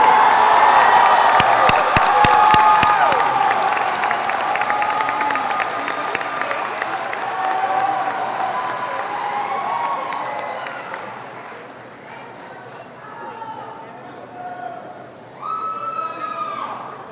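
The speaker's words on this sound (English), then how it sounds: "Let's give all these dedicated individuals a big round of applause." A large crowd at a 2024 Martin High School graduation ceremony bursts into loud, sustained applause mixed with cheering and whoops, gradually fading and then swelling again toward the end.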